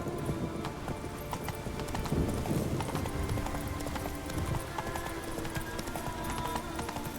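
The horse Roach galloping in The Witcher 3, a steady rapid clip-clop of hooves close by throughout, with a brief snort and faint ambient game sound.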